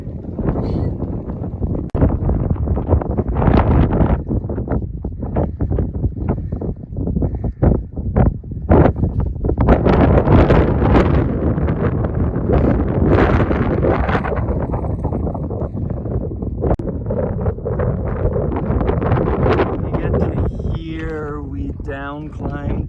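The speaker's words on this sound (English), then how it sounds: "Still really windy." Strong wind buffets a microphone on Red Ridge, a mountain ridge in Kananaskis, loud gusty rumbling that surges and drops, with rustling, footsteps and a voice talking at points.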